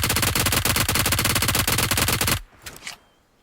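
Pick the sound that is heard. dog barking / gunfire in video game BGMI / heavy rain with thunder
gunfire in video game BGMI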